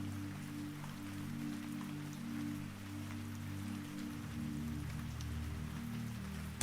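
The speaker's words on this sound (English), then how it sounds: "with rain moving steadily across the windows as the road carries you toward the coast" Steady rain streams across vehicle windows on a road toward the coast, an even soft patter over low sustained droning tones, with no voices.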